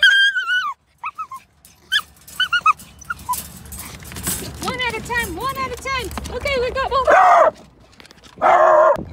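Dogs at a veterinary clinic whimper, yip and bark in a run of short, high cries, with louder sustained whines near the end, while people talk quietly in the background.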